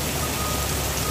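Heavy rain pours down steadily at a building demolition site, a dense, loud, unbroken hiss with no voices.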